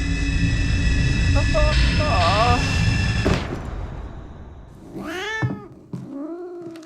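Tonal music and clatter give way to a cat meowing two or three times, drawn-out and close, with a short pause between cries.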